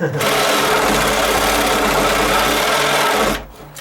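A cordless drill whirs at close range with a steady, high motor whine for about three seconds, then winds down and stops.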